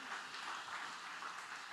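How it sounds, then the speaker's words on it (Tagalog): A church congregation claps their hands in praise during worship: a faint, steady wash of massed clapping that stays constant throughout, heard from a distance. "Malakas na palakpak para sa ating mahal na Panginoon."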